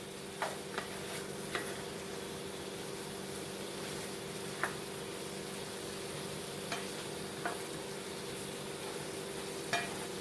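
Honey cranberry chicken heating together in a pan, a faint steady sizzle with occasional soft ticks and light clicks, quiet and close with no voices.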